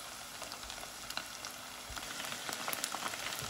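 Chicken pieces frying in oil for masala fried chicken, a steady, close, crackling sizzle with dense popping that grows slightly louder toward the end, no voices.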